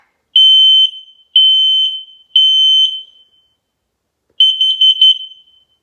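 A hardwired smoke alarm with battery backup sounds when its test button is pushed. It gives three loud, shrill beeps in even succession, then a pause, then a fourth slightly wavering beep.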